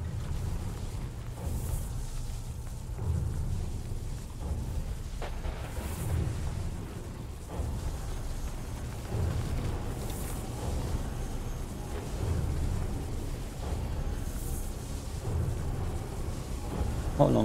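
A storm rolls through the video game The Cycle: Frontier, with low, distant thunder rumbling in slow swells under steady rain-like noise and faint scattered sounds, fairly quiet throughout.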